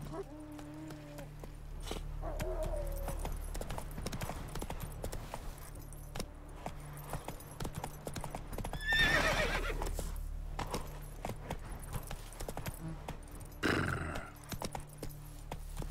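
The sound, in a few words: horse Roach in video game The Witcher 3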